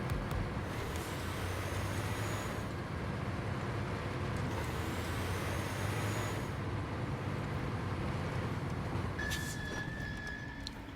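Truck engine droning steadily from inside the cab in the off-road driving game Snowrunner, a continuous low rumble with no break, joined near the end by a brief high mechanical whine.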